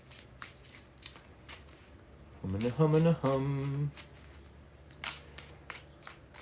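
Tarot cards are shuffled by hand at close range, giving soft irregular riffling and tapping bursts, while a brief hummed voice sounds in the middle.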